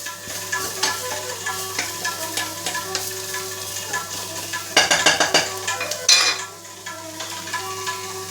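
Carrot dry curry being stirred in a pan, a steady sizzle broken by scraping spoon strokes and a couple of louder clattering bursts against the metal.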